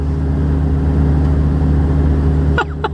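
A reefer truck pulls away in a parking area with a loud, steady low engine rumble close by that suddenly drops off near the end.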